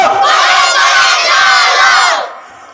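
A large crowd at an Islamic sermon gathering chants a religious slogan in one loud, sustained shout of many voices, which breaks off sharply at the end.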